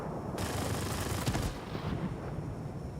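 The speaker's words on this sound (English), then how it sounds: "And you hear the machine guns going" Rapid bursts of video game machine gun fire rattle in quick succession, loud and close, then taper into scattered shots and echoing noise.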